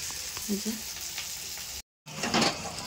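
Bhola fish curry with onion and garlic sizzles steadily in a pan, a close, even frying hiss broken by a brief silent gap before resuming slightly louder.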